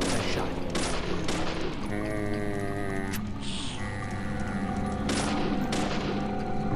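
Gunfire in the horror video game Deadly Premonition, a dense burst of repeated shots with loud broadband cracks over game music and effects, steady and close throughout.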